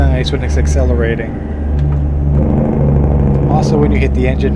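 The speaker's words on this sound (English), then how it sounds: "Also when you hit the engine brake." A truck's engine brake engages in a trucking video game, giving a loud, continuous low engine rumble that runs throughout beneath a talking voice.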